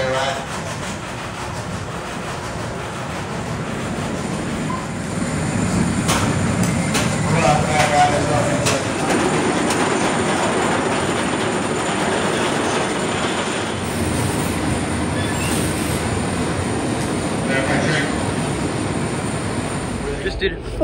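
Nitro roller coaster train at Six Flags Great Adventure rumbles past as a steady, loud roar of wheels on track, swelling midway and holding under talk from people nearby.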